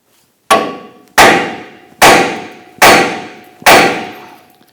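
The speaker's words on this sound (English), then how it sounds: "strike our knuckle here to loosen or separate the ball joint from the knuckle" Five loud, evenly spaced hammer blows ring out against the steel steering knuckle of a 2006-2010 Hummer H3 to free the front lower ball joint, each a sharp metallic clang with a short ringing decay.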